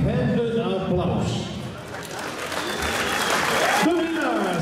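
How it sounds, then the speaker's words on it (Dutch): Audience applause for a boxer at a kickboxing event, a loud sustained burst of clapping and crowd noise filling the venue while an announcer's amplified voice speaks over it. "geef hem een applaus"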